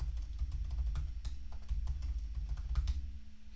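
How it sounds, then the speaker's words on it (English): Password being typed on a computer keyboard while setting up a Raspberry Pi: a steady run of close keystroke clicks over a low electrical hum, with no talking. "and then type in your new password."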